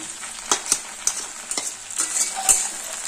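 Poppy seed and green chilli paste frying with okra in a pan over a medium flame: close, steady sizzle with spoon stirs and scrapes clacking at irregular intervals.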